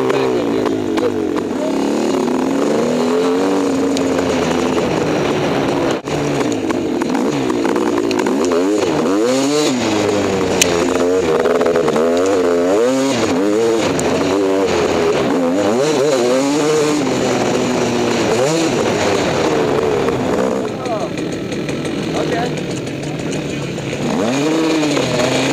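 KTM SX dirt bike engine revving continuously at close range, rising and falling in pitch with loud sustained throttle blips over about twenty-five seconds.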